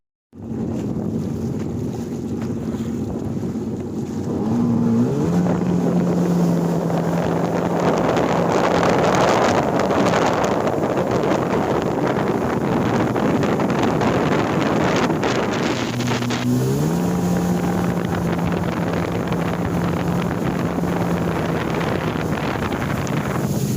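Jet ski speeding across open water, a loud engine hum that rises in pitch as it accelerates, mixed with rushing water, spray and heavy wind buffeting on the microphone, with no talking.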